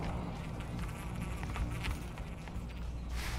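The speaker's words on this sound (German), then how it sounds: "Mücke!" A mosquito buzzing in a video game, a close, steady insect whine holding for a few seconds over low background noise, with no talk.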